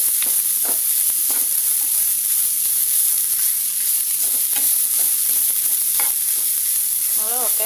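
Grated coconut roasts in a pan for a moringa leaf chammanthi, giving a steady soft sizzle with repeated scraping stirs of a spoon, close and clear with no talking.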